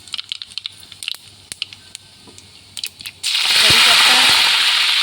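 Scattered pops and crackles from hot oil give way to a loud, steady sizzle as cumin and mustard seeds go into the pan, close up, for a mixed vegetable dish.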